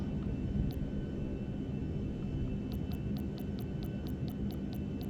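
An aircraft in GTA 5 rolls for takeoff with a steady, low engine drone and hum, and a series of faint, rapid ticking clicks repeats over it.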